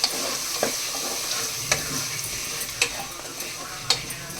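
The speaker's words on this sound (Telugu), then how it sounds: "ఇప్పుడైతే టమాటాలు కూడా వేసేస్తున్నాం. ఒకసారి కలుపుకున్నాం." Tomatoes frying in a pan for prawn biryani, a steady close sizzle broken by sharp spatula clinks and scrapes every second or so.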